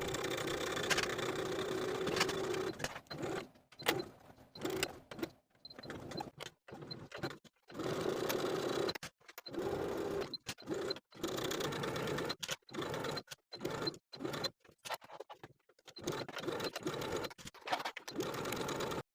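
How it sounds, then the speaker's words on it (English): A sewing machine edge stitches slowly around the thick folded bias-bound edges of an open front jacket, running in stop-start stretches broken by many short silences, fairly quiet and close. "I'm going to take it to my sewing machine and edge stitch close to that inner folded edge all the way around"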